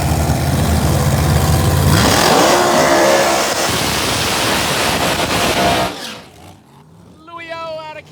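A screw-supercharged Pro Mod drag racing car at Empire Dragway, during Northeast Outlaw ProMod qualifying, roars loudly for about six seconds, then drops to quieter, rising revs near the end.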